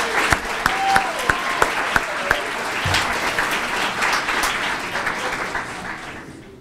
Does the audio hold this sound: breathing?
no